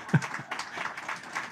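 A church congregation claps in a short, scattered burst, several hands striking unevenly at moderate loudness and fairly close.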